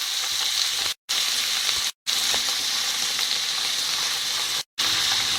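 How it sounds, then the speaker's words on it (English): Capsicums frying in a pan for chilli paneer give a steady, loud sizzle with faint stirring scrapes, broken by a few brief silent gaps. "capsicums have been cooking for a few minutes"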